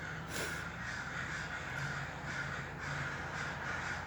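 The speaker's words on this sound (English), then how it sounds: "You hear the crows?" Several crows caw repeatedly in the distance, harsh calls recurring at a loose rhythm over a soft background hum.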